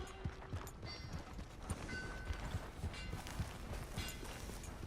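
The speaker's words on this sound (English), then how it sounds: "My horse! Am I glad to see you?" Horse hooves clip-clop in an irregular trot in Red Dead Redemption 2, faint and fairly close, with quiet ambient background noise.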